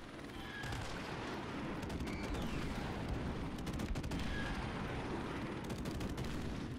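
Airstrike explosions and dense combat gunfire in Call of Duty Modern Warfare Remastered, a continuous loud barrage of booms and rattling shots with no break across the whole stretch.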